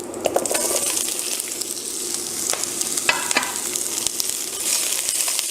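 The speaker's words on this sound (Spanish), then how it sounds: "ponemos otro poquito de aceite y vamos a agregar las verduras" Sliced vegetables hitting hot oil in a pan for ramen, a steady crackling sizzle with bright clinks and scrapes of stirring throughout, close and continuous with no talk.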